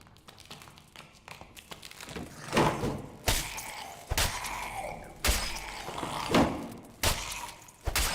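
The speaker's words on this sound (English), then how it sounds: "Door opening." A door opens in the dark fantasy game Dark and Darker, a run of heavy wooden creaks, knocks and sharp clattering impacts spread over several seconds with no voices.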